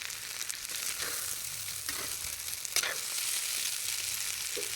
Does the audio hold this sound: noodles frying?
yes